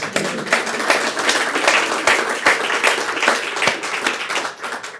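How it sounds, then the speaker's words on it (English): An audience at a ribbon cutting ceremony claps steadily in a dense burst of applause that fades toward the end, heard alone. "please give a round of applause"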